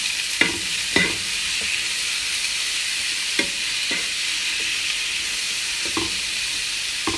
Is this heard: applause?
no